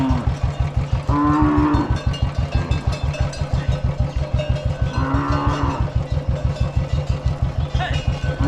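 Native Jallikattu-breed hill-forest cattle in rural Tamil Nadu give two drawn-out moos, a few seconds apart, over the steady, fast throbbing of a nearby idling engine.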